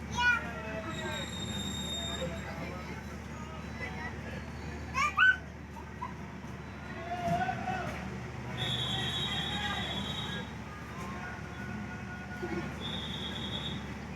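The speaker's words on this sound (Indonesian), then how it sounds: "Yang baru saja datang di samping ini adalah kereta api Jayabaya, relasi Malang sampai dengan stasiun Pasar Senen Jakarta via Semarang." The Jayabaya passenger train, running from Malang to Jakarta Pasar Senen via Semarang, pulls in alongside a busy Indonesian station platform, with low rumbling, faint wheel squeals and a background of people's voices and crowd bustle.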